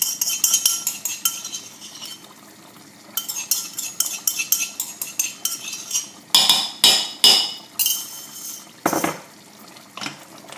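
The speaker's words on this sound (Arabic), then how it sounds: "حرك بالكدا، حل الثوم في الطنجره الكل" Metal spoon scraping and clinking against a cooking pot while stirring garlic into Tunisian kammounia with meat and liver, a run of quick close taps and scrapes with short pauses, no voices.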